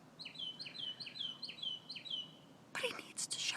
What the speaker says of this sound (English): I'm guessing this bird thinks it's daytime.